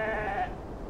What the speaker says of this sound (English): The sheep need water.